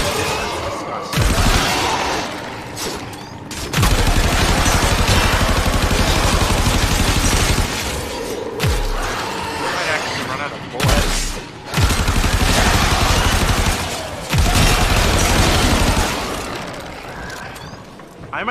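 Dense gunfire and explosions crackle from a gun in Warframe, loud sustained bursts broken by short gaps, with heavy low booms throughout.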